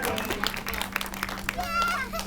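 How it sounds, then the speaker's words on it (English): At a sea lion show at the Sea Life Centre SeaQuarium in Rhyl, North Wales, the audience claps in a quick burst of scattered applause. Voices, including children's, chatter through it. "Big round of applause"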